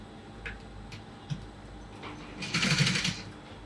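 A sewing machine stitches the facing inside a cap: a few light ticks and clicks, then a short, louder burst of rapid stitching near the end, with no talking.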